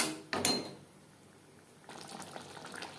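Spice-rinsing water is poured into a pan of frying spice paste for jackfruit curry. It starts with a sharp clatter and splash, drops to a quiet bubbling simmer, then a soft sizzle returns toward the end.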